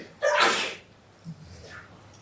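A single loud, close sneeze bursts out near the start, a sharp explosive burst with a quick intake before it, followed by quiet room tone and faint murmuring.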